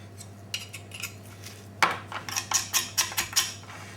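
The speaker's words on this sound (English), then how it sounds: "so we're scraping the bones down here now like that" A knife scrapes lamb bones clean on a kitchen board, giving a series of sharp, close metallic scrapes in a steady rhythm that grows denser toward the end, with no talking.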